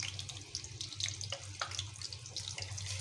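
Meat being added to hot oil in a pan for chicken korma, a continuous close hiss and sizzle with scattered crackles and pops, steady throughout with no voices.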